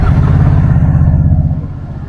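A big bike motorcycle engine idles just after starting, a loud, close, steady low rumble with a regular pulsing throb.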